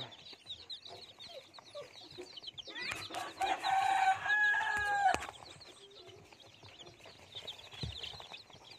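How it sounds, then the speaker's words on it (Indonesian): Week-old chicks, about fifty in a coop, cheep and peep continuously at close range, with a louder, busier burst of calls in the middle before the flock settles back to a steady chatter. "ayam sehat semua lincah"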